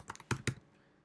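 Computer keyboard keys click in a short quick burst of three or four taps, close and fairly quiet, then go silent.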